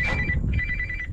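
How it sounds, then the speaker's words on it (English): A mobile phone rings outdoors during a blue crab fishing trip in North Florida, giving a short electronic trill in two quick bursts, loud and close, with no talking. "My phone is going off."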